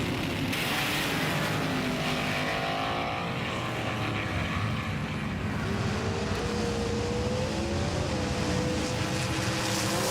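Small model race cars, a 2008 Evo among them, whine around a track in a continuous high-pitched buzz, with motors rising and falling in pitch over a constant roar and no talk.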